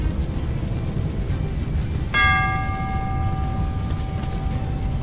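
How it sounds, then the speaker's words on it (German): A single bell in the game Metro 2033 Redux strikes once and rings on with a long, clear, slowly fading tone over a steady rumbling, rain-like background. "Achso, die Glocke hier."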